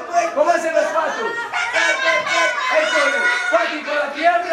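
Children at a kids' party game mimic duck quacks with their voices, a lively overlapping group of young voices calling out repeatedly, close and loud throughout.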